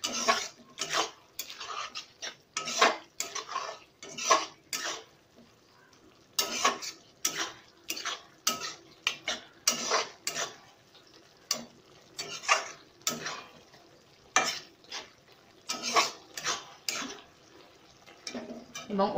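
Prawns are stir-fried in a pan as a utensil scrapes and clinks against the metal in quick, irregular repeated strokes over a faint sizzle, close and without speech.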